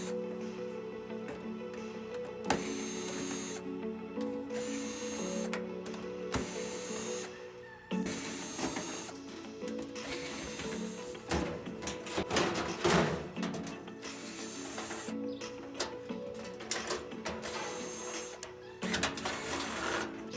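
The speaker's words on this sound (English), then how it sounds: "We have a few more 1/4 inch screws on the back side to remove." A power drill backs quarter-inch screws out of the back panel of a clothes dryer in repeated short whirring bursts, separated by pauses and handling clatter.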